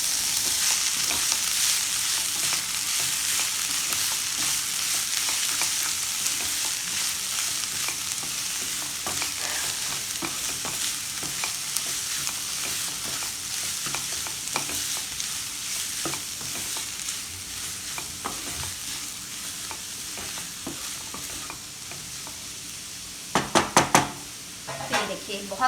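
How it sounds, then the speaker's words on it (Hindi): Vegetables for hakka noodles stir-fry in a hot pan, a steady sizzle and hiss running throughout with occasional scrapes of a utensil, and a few sharp knocks against the pan near the end. "देखिए बहुत ज़्यादा नहीं सेकना है, ये थोड़ा सा हाफ रोस्ट हो चुके हैं।"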